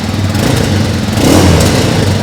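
Kawasaki KLX 230 RS motorcycle engine revving with a deep, bassy exhaust, close and loud, a continuous rough drone that swells slightly midway through without dropping off, no voices over it.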